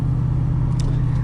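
Manual five-speed VN with a V8 engine, a loud, steady low idle rumble with an even, throbbing pulse close by.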